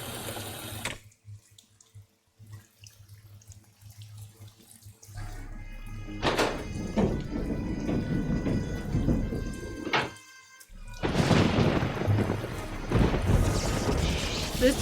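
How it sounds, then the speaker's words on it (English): A thunderstorm in the Nancy Drew: Legend of the Crystal Skull game hisses with steady rain-like noise, broken by sharp cracks of lightning and brief near-silent pauses. "This is only possible if it was lightning storming."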